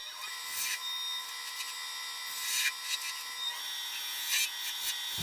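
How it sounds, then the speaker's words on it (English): A spindle gouge cuts a spinning workpiece on a wood lathe, making a steady whir broken by bursts of scraping as the tool bites in. The sound is close and continuous, and no one talks. "I'm just using a spindle gouge and kind of working from both directions"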